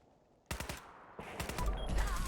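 Rapid gunfire in Fallout 4 erupts abruptly after a quiet moment, a dense burst of sharp close shots followed by a second volley with low rumbling impacts.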